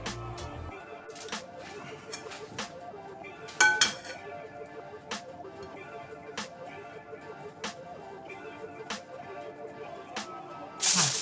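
A metal spoon clinks and taps against a baking tray while almond crinkle cookie dough is portioned out, a series of light, irregular clicks spaced a second or so apart in a quiet kitchen, with one brighter clatter midway.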